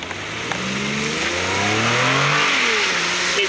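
A new two-wheel-drive, rear-drive Infiniti G35 accelerates around a test track, its engine note rising steadily in pitch and loudness through the gears, heard loud and close without talking.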